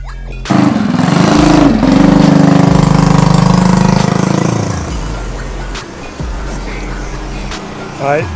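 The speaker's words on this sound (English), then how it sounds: "Taylor's on the Mega Moto 80. Trying to do a stoppie with the front brake kit we just installed." A Mega Moto 80 mini bike's small engine revs loudly and close for several seconds, its pitch rising and falling, then drops back to a quieter idle with faint voices in the background.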